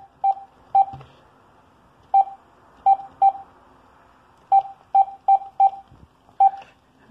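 Telephone dialing tones played through an Xlink BT-2 Bluetooth gateway, a quick run of about a dozen short, clear DTMF beeps in uneven groups, with faint background noise between them.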